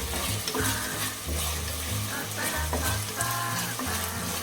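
Pork frying with garlic and onion is stirred in a pan, producing dense, loud sizzling and crackling with repeated scraping strokes of the utensil running through the whole stretch, no voices.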